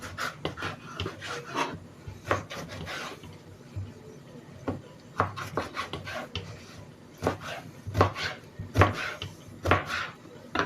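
Repeated knife strokes chopping eggplant on a board, in irregular bursts of quick cuts with short pauses, close up.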